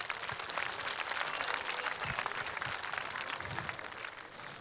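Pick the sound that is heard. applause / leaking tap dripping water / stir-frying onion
applause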